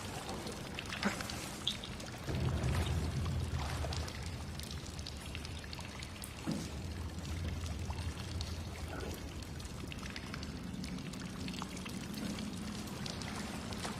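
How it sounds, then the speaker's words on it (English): Steady, continuous rush of falling water from a waterfall in the SOMA mod Argos game, a dense pouring wash with scattered droplet splashes, holding at an even level throughout with no talk. "this waterfall does not end in water, it ends before it reaches water."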